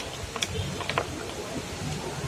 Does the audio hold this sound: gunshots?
no